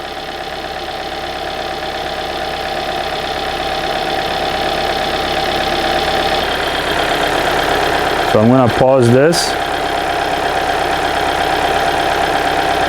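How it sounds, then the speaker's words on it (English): A Hyundai Sonata engine idling roughly drones steadily up close, with someone speaking briefly over it partway through. "Okay, so here's what we have with the engine running."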